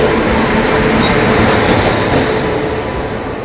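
Express train speeding up on the track, a loud, continuous rumbling roar of wheels and carriage heard up close from inside, steady throughout with no talk.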